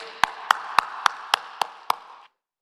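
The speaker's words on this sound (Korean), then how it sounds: "우리 강사 목사님 나오셨는데 박수로 환영하겠습니다." A congregation at a dawn service in a fasting prayer retreat center claps to welcome the guest pastor: seven evenly spaced, sharp unison claps in a steady beat over a faint background hum, then silence.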